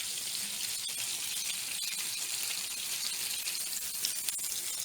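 Chicken meatballs browning in a pan give off a steady, even sizzle and hiss that carries through the whole stretch, with a few soft ticks and pops and no voices.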